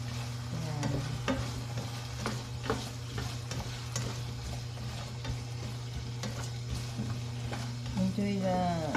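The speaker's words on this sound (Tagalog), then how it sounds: "Lutuin na natin itong patatas." Potatoes fry and sizzle in a pan with a steady crackle, joined by repeated scraping and stirring clicks from a utensil and a low constant hum throughout.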